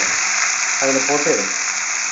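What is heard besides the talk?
tomato, ginger, garlic paste frying in hot oil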